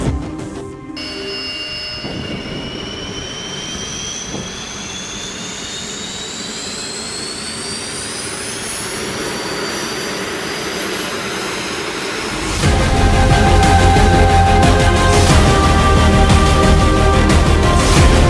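An unmanned combat aircraft's jet engine starts up for its first ground test, a whine climbing steadily in pitch for several seconds before a loud, sustained roar takes over.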